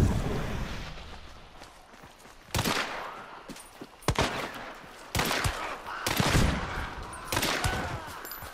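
Gunfire in the video game Hunt: Showdown: several loud, sharp shots ring out at irregular intervals, each trailing into a ringing echo, over a low background of movement and ambience.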